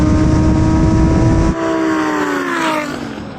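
Bright yellow Lamborghini Performante in a half-mile drag race against a 700hp GT-R and Cayenne Turbo GT: a loud roaring engine at high revs, then a sudden drop as it shifts and pulls away, the pitch climbing again while fading.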